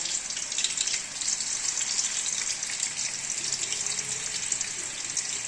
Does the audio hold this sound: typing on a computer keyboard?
no